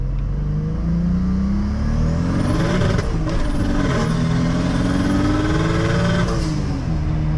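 A single-turbo BMW N54 car pulling hard through first and second gear, the engine note climbing steeply, dropping sharply at the shift around midway, then climbing again, loud and close from inside.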